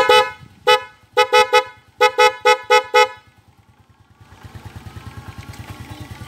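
A dual-contact motorcycle horn switched through the halo switch gives several loud, close honks, first one and then quick bursts of two and three. A running engine's rhythmic idle putters underneath and grows louder toward the end.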